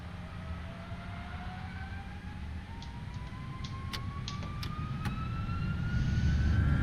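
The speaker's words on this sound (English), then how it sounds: "Oh, listen to those engines, crazy. They are really screaming." Jet engines of an FSLabs A321 in a flight simulator game spool up to a rising, screaming whine as the airliner holds on its brakes, the tone climbing steadily and growing louder, with faint clicks and no talking.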